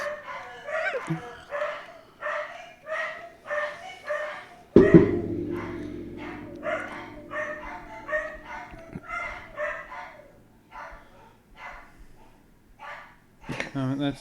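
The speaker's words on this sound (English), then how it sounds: "My dogs are going crazy." Excited dogs barking in rapid bursts, loud and close, with a person talking over them at times.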